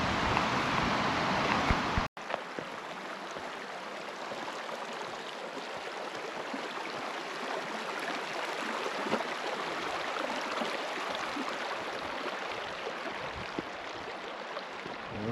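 A mountain river flows straight out of Ice Lake in Colorado, a continuous broadband rush of water heard close, with wind buffeting the microphone and a brief sharp knock near the start.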